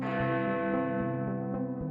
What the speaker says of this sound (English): you hear the chimes from the clock tower announcing your arrival